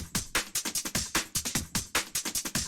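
A fast, punchy drum and bass break with crisp snares and kicks rolling in a busy, syncopated rhythm, played alone.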